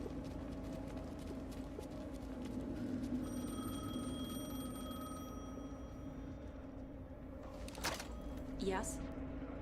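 A telephone rings in the video game Alan Wake 2, an electronic tone that sounds for a couple of seconds over a low, murky ambient hum, with voices speaking nearby.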